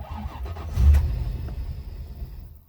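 A Rolls-Royce Silver Shadow II engine cranks and catches in one short burst, then settles into a low, faint idle rumble that fades out.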